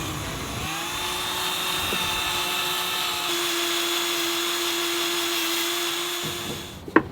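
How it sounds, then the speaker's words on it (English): A power drill boring holes into a boat part for a strut mount, a steady whining drone held for about six seconds, close and loud, then winding down with a short clunk at the end. "So we're going to go drill some holes in this one."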